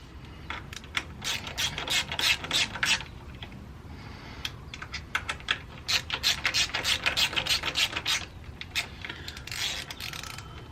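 Car hardware is tightened during fabrication work on an AWD K-series EK sedan, with titanium bolts fastening a slave cylinder. A wrench ratchets in quick, fairly close clicking bursts with short pauses and no voices.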